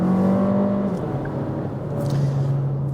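A Skoda Kamiq 1.5 TSI accelerates hard on a road strewn with wet leaves, its engine drone loud and continuous with a tonal shift partway through, heard close with no talking.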